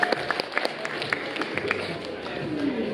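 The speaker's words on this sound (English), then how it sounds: "another round of applause for the team going for it" A crowd applauds a team at a Bristol Bot Builders beetleweight robot combat event in 2022, scattered claps over a busy hall background while a voice talks over it.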